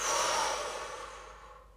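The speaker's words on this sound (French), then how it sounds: "Inspire profondément par le nez et souffle avec force pour te revitaliser." One forceful breath out through the mouth, close and breathy, strongest at the start and trailing off gradually over under two seconds.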